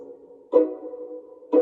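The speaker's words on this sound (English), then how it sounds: "and then violins doing a chord." Violins plucked pizzicato on a chord, two crisp attacks about a second apart with short ringing sustain, close and alone.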